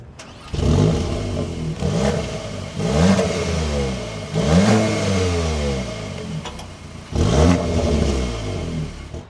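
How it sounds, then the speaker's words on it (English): An Audi S3 engine revs in four distinct blips, each swelling quickly and falling back to idle between throttle stabs, loud and close with no talking. "let's take a listen to how this S3 sounds"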